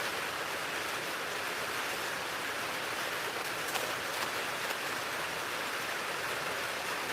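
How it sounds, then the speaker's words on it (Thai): Steady rain falls over a rural field setting, a dense continuous hiss with faint scattered drops, fairly quiet and unbroken throughout, no voices. "ฝนตกดีมากเลยค่ะ"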